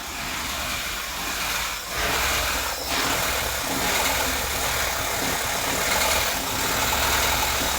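A Porsche 944 engine idles steadily up close, a continuous rumbling drone with slight dips and swells in loudness.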